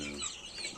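Chickens cluck softly inside a backyard chicken coop with a sand floor, a short, close burst of low, continuous hen murmuring with no talk over it.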